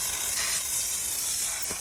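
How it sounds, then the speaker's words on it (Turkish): A Polki steam cleaning machine blasts a car wheel rim with a loud, continuous, close hiss of pressurized steam that holds steady throughout. "bütün jantı sanki yeni alınmış gibi buharla pisliğini akıtabilirsiniz"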